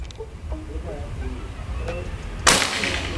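A single sharp shot from a PCP air rifle fired outdoors, a Predator or Marauder OD 38, cracking out loudly near the end after quiet background noise with faint voices.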